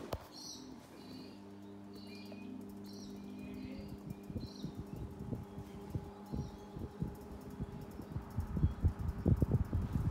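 A vintage three-speed electric fan on low speed, a low, steady mechanical hum with a droning motor tone throughout, while birds chirp and coo faintly in the background.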